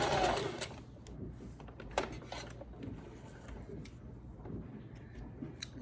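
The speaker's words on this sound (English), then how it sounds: "if you're using a regular sewing machine" A regular household sewing machine zigzag-stitches two fabric pieces of a one-piece garment together, a rapid mechanical whir with clicking, close and moderately loud, with no talk.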